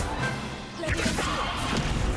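Wingardium Leviosa spell cast in the video game Hogwarts Legacy: a brief whooshing thud that swells out of a steady background hum, then fades into a low rumble.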